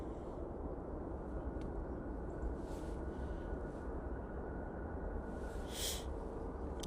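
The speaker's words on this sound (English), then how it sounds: "Sounds like the Jet 2 is putting a cycle through those engines." Jet2 airliner's engines spool up at Manchester Airport, a steady broadband roar held at a constant level from a distance, with no talk over it.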